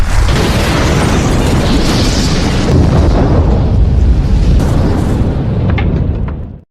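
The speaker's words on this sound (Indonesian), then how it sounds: "terdengar ledakan bom terjadi di luar Plaza Mayor" A bomb explodes outside the Plaza Mayor in a film about a terrorist attempt on a president, a huge, loud, rumbling blast that rolls on for several seconds before cutting off abruptly.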